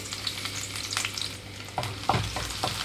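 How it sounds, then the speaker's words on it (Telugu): Chopped ginger and garlic fry in hot oil for tomato fried rice, giving a soft continuous sizzle with a few stirring scrapes and clicks from a spoon in the pan, no voices. "ఇక్కడ ఆయిల్ హీట్ అయిన వెంటనే అల్లం వెల్లుల్లి వేసి వేయించుకుంటున్నానండి"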